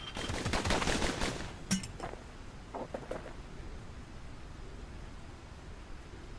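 Rapid bursts of gunfire from the player's weapon in the action game Bastion crackle in a dense volley, then thin into a few sharper isolated shots over a hissing background.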